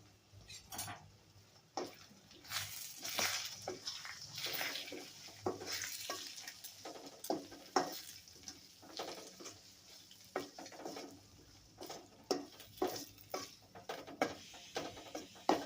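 Egg fried rice being stirred in a pan: irregular scraping and clinking of a spatula against metal over a soft sizzle, close and fairly quiet, with the strokes coming in uneven bursts.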